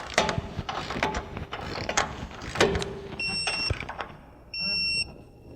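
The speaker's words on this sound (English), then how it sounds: "Torque those down to 65 foot-pounds." A torque wrench ratchets and clicks as Jeep Wrangler JL rear bumper bolts are tightened to 65 foot-pounds, with sharp metallic clicks and rattles up close followed by brief high electronic beeps.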